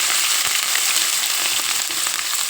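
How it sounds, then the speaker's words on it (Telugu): Green chillies sizzle and crackle in a hot pan, a dense and close frying hiss with small pops throughout a short burst, with no one talking. "ఇప్పుడు మనం ఇందులోకి పచ్చిమిరగా వేసుకున్నాం"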